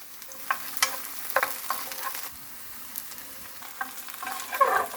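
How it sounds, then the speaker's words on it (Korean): Scallions and sliced garlic stir-fry in hot oil in a pan, a soft steady sizzle broken by scraping stirs and small crackling pops, close up with no talking. "파를 먼저 넣어서 파기름을 내주겠습니다"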